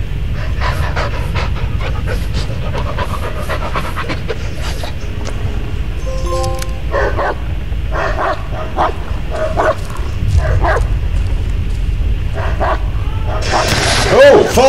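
Dog panting with a few barks in the Blair Witch video game, steady breathing bed under game ambience and someone talking over it.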